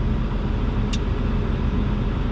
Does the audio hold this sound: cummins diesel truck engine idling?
yes